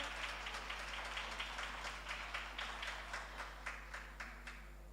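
Spectators at a college quiz competition final clap for a team in a quiet, rhythmic unison beat of evenly spaced claps over a steady low hum.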